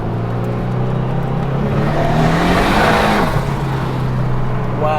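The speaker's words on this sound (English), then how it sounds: "the car drives really well" A twin-turbo Datsun 240Z sleeper on 7 pounds of boost accelerates hard nearby, its engine climbing to a loud surge and dropping as it shifts, while occupants talk over it.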